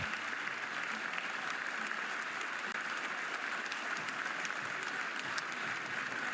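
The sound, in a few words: Oklahoma softball fans applauding injured player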